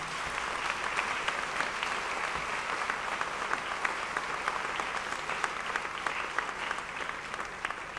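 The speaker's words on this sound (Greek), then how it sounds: "Θα παρακαλούσα για τον καθένα ένα χειροκρότημα, γιατί για όλους αξίζει ένα χειροκρότημα." A concert audience breaks into sustained applause for the band and its guests, a thick and even spread of many hands clapping for several seconds, with scattered sharper claps standing out.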